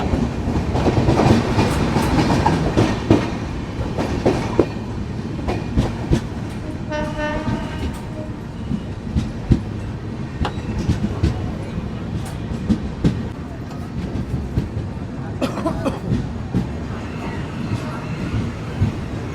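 A Garib Rath express rolls along the rails with a steady rumble and rhythmic clickety-clack heard from inside the carriage, with a horn sounding midway and passengers talking faintly in the background.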